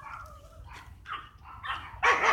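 A dog on a street barks in several short bursts that grow louder and closer toward the end, heard outdoors over low background rumble.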